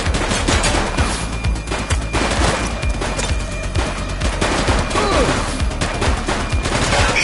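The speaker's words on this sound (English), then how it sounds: "Shots fired!" Sustained gunfire from a police shooter video game, The Precinct, played on PS5: a dense, loud barrage of overlapping shots and automatic bursts that runs unbroken for several seconds.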